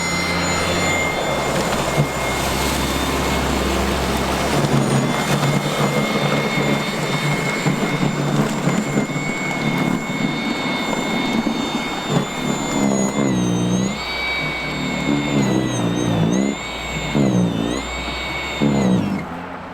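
An EGO single-stage, auger-propelled battery snowblower runs near max speed with a steady loud whine and hum, its pitch shifting slightly as it works through snow and easing near the end, with no talk over it.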